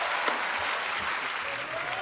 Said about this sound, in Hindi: थैंक यू तालियां बजाई रहे